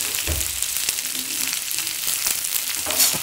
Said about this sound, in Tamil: வெங்காயம் அதையும் போட்டு நல்லா வதக்கணும்